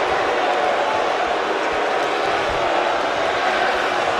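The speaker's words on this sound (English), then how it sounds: "And this crowd here booing CJ Parker relentlessly." Wrestling crowd at an independent MPWF show jeering a heel wrestler, a dense, steady roar of boos and crowd noise filling the whole moment without letup.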